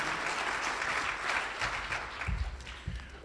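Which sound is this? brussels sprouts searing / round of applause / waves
round of applause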